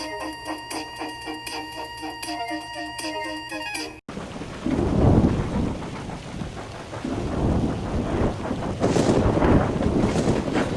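Steady heavy rain with rolling rumbles of thunder and gusty wind, loud and continuous, coming in after a few seconds of cheerful music in a Thomas the Tank Engine story.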